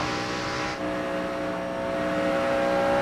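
NASCAR stock cars racing in the 2006 Nextel Open, a loud steady engine drone with a sharp harmonic whine, a brief dip as one car passes, then a rising roar.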